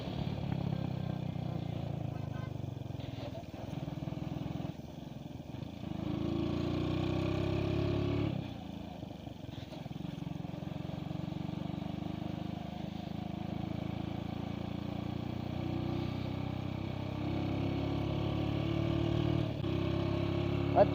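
A motorcycle engine runs continuously, with a low, uneven rumble that swells and dips as the throttle changes, and people speaking over it.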